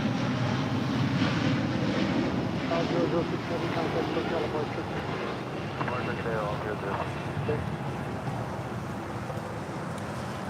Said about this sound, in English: This is LL Flight 6 departing to Tel Aviv on the 787-9 Dreamliner in the retro livery